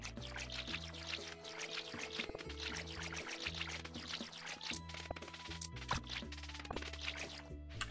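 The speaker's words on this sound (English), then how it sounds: "Let's water all of our plants." A watering can in the farming video game Stardew Valley pours water on crops, with repeated splashy effects sitting under steady, busy background game music.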